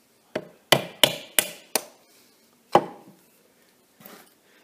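Wood being split into a thin 16 x 16 mm strip: a quick series of five sharp close knocks, then a single louder crack and a faint final tap, with short silences between.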